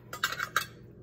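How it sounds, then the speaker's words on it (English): Buffalo chicken dip ingredients, including soft cream cheese and canned chicken, stirred in a mixing bowl: a few close scraping and clinking strokes of a utensil against the bowl, then quiet, no talking. "So you're gonna start mixing up your ingredients."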